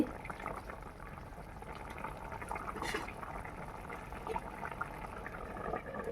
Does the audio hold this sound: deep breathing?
no